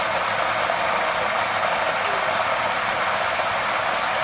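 Kerala Nendran banana chips frying in hot oil, giving a steady, dense sizzling hiss that holds level throughout with no voices.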